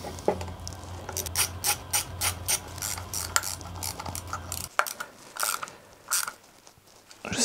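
A ratchet tightens a bolt on an engine with several quick bursts of sharp, close clicking over a low mechanical hum. The hum cuts out partway through, and a few more isolated clicks follow.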